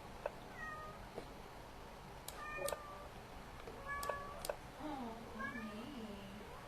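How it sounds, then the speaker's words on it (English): A cat meows repeatedly in short, plaintive, high cries spread across several seconds, fairly faint and set against quiet room tone, with occasional light clicks between the meows. "Why is this kitty so sad?"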